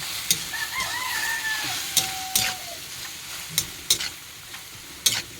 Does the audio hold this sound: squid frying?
yes